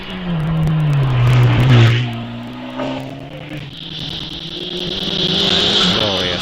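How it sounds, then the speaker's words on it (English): Lotus Exige V6 Cup race car at a hillclimb, its engine revving loud and close with rising and falling tones as it accelerates through gears, steady and continuous throughout. "Glorious sounding Lotus Exude V6 Cup car"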